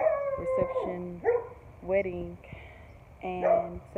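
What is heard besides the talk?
dog barking and howling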